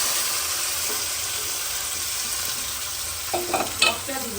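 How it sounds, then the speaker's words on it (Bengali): Water is poured into a pan of frying onions and chicken, the steady sizzle and stirring giving way to a few sharp splashy bursts near the end, close up with no talking. "এখন পানি দিয়ে দিচ্ছি।"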